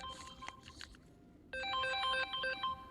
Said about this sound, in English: Thought I turned that alarm off.